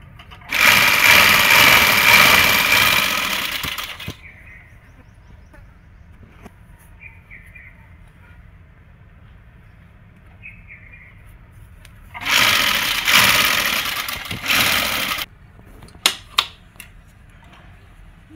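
A sewing machine stitching a frock runs in two loud, close bursts of rapid mechanical whirring, separated by a quiet pause, followed by a few sharp clicks.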